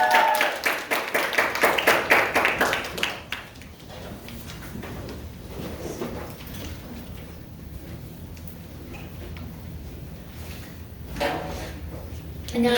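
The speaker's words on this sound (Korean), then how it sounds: "큰 박수 보내주십시오." A church congregation at a Sunday worship service gives a burst of loud, dense applause lasting a few seconds. It then fades into a low room murmur, with a brief voice near the end.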